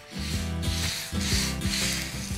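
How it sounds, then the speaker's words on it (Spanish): Wood sanded by hand with sandpaper along the grain while a small bedside table is being restored, giving close, rhythmic back-and-forth rasping strokes in steady succession. "Acordaos siempre de lijar en el sentido de las vetas de la madera"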